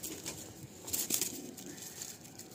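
A pair of young Andhra pigeons released from the hand, their wings beating in a brief flurry of soft flapping bursts, fairly faint amid outdoor background noise.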